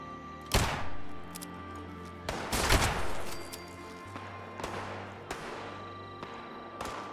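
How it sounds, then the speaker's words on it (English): Several loud gunshots in the video game Fallout 76 crack out at irregular intervals, with sharp broadband bursts and echoing tails over a steady low background hum. "I just hear a lot of gunshots."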